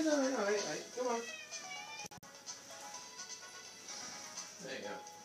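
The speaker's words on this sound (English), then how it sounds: "My cat is in my bedroom with me and she wants to go out." A cat indoors in a bedroom meows repeatedly to be let out, its drawn-out cries close and clear, with a quieter meow near the end and a brief click in the middle.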